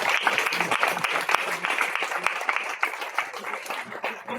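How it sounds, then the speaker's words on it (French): An audience at a gathering for Palestinian rights applauds in a steady, moderately loud wash of clapping, with some voices mixed in. "On peut s'applaudir, ouais."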